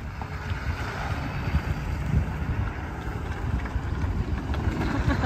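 A big bore Honda TRX250R ATV engine runs hard and steady throughout, its rough low exhaust drone buffeted by heavy wind noise from riding.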